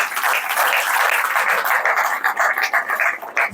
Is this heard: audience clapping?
yes